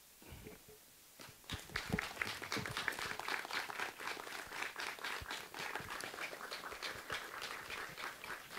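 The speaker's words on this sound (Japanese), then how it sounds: "皆さん、拍手でお迎えください。" A symposium audience welcoming guest speakers breaks into sustained applause, many hands clapping densely and steadily for several seconds after a brief quiet start.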